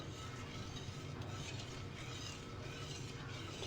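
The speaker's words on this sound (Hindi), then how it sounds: "कलर सेवइयाँ ऐड करने के बाद हम उसको मुसलसल कंटिन्यू चलाते रहेंगे" A spoon scrapes and stirs coloured vermicelli (seviyan) with custard in a pot, a faint continuous rustle with light metallic clinks and a soft background hiss.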